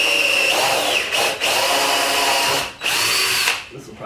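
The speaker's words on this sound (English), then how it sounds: "I'm going to try and drill into the frame with the drill bit first this time." A power drill bores into the steel frame of a jet ski trailer being converted to carry kayaks, whining loudly and steadily with two brief pauses as the trigger is released, close to the microphone.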